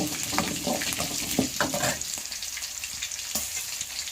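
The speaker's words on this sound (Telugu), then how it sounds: "ఇలా ఫ్రై చేస్తూనే ఉండాలి" Green and dry chillies fry on a low flame for pulihora, giving a close, crackly sizzle with scraping stirs in the first half, then a quieter hiss with one last scrape.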